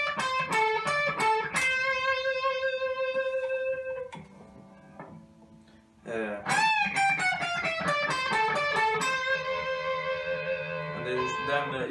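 Distorted electric guitar plays a solo lick, with bright sustained bent notes and quick runs, a brief quieter dip midway, then a busy finish.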